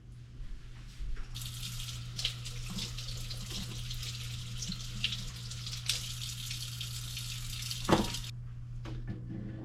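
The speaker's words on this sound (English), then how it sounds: "I'm gonna put fresh water on them" Fresh tap water runs steadily from a faucet over cured wahoo fillets in a sink, a continuous close splashing hiss with a low hum beneath and a brief louder clatter near the end.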